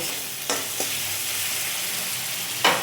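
A steady hiss of frying in hot oil, broken by a few quick scraping stirs at the start and one louder stir near the end.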